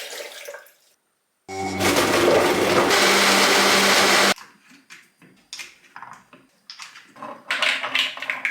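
A kitchen juicer processing orange, lemons, ginger and turmeric roars loudly for about three seconds after a brief silence, then stops, followed by clattering and handling noises.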